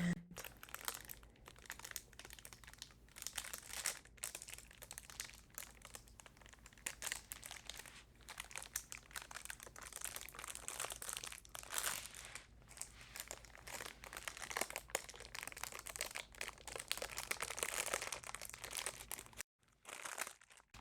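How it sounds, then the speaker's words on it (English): Wax paper is folded and crinkled around a decal, producing close, quiet crackling and rustling in irregular bursts that continue for about twenty seconds, with no talking. "all you have to do is fold the wax paper around your decal and close it up"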